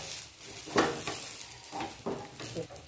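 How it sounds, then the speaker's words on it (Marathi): Colocasia leaf rolls for alu vadi flipped and dry-roasted in a pan with barely any oil, giving a soft sizzle broken by several close clinks and scrapes of a spatula against the pan. "हे पानं पुन्हा एकदा आपण असे थोडेसे पलटून घ्यायची म्हणजे या साईडनं पण छान भाजले जाते"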